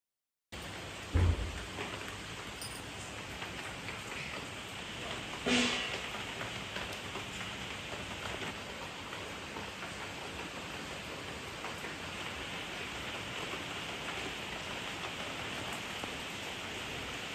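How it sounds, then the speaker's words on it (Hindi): Heavy morning rain pours in a steady, even hiss throughout, with a couple of brief louder knocks or drips early on and no voices. "सुबह के 8 बज रहे हैं और फिर से बारिश शुरू हो गई है"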